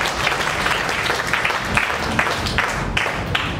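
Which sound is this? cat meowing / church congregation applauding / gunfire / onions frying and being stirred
church congregation applauding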